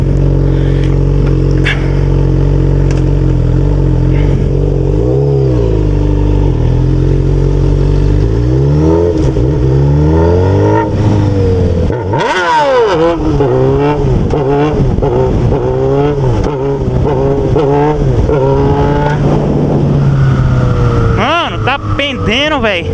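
Honda Hornet motorcycle with a straight pipe, revved hard repeatedly up close, loud rising and falling engine howls with a steady idle between bursts.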